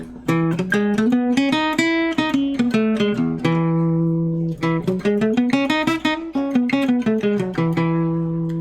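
A run of plucked, keyboard-like notes rises and falls in a steady scale pattern, clear and close, with no talking.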